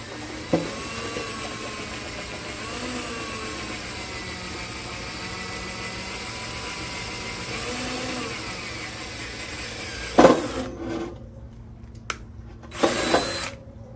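A power drill bores drainage holes through a bird cage being turned into garden decor, running steadily for about ten seconds at a constant whine before stopping, followed by a couple of brief, loud bursts of drilling.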